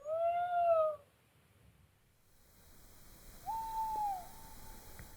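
Owl hoots in a peaceful Swedish countryside spot: a loud, clear series of stacked tonal calls at the start, a quiet pause, then a single fainter hoot later, with no talking.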